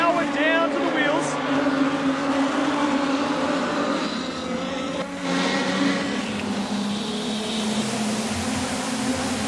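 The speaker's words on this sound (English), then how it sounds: "trying to spin the wheels on the slippery stuff, the greasiness, the bottom of the track" Production sedan race cars circling a slippery speedway dirt track during a final, their engines droning loud and steady throughout with a race commentator talking over the noise.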